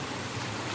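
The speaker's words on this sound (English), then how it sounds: "So this is the main stream, which is the source for the system. You can see this is the main flow." Water flowing steadily in the main stream that feeds a traditional 150-year-old irrigation system, a continuous broadband rush heard close and even with no voices.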